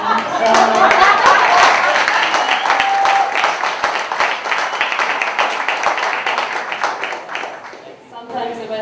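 An audience at an open mic poetry night in New York City claps and applauds loudly at first, the clatter fading slowly as voices carry over it.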